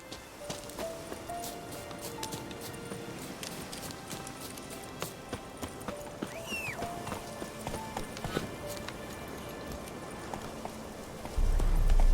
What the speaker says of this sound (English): Run, Roach. Slow now. Whoa